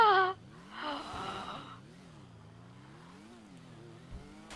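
A car engine driving in GTA V hums steadily at low to moderate volume, its pitch rising and falling in slow waves, with a brief clatter near the start and no talk.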